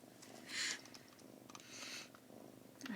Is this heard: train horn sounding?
no